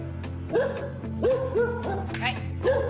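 Short, excited dog barks and yips come in bursts over a steady low hum, with a voice speaking briefly in between.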